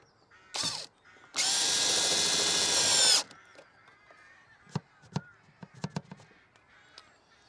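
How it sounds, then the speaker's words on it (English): A power drill drives a screw inside a van, with a short whir followed by a longer steady high-pitched run, then scattered clicks and clatter of handling afterward. "I was screwing this on."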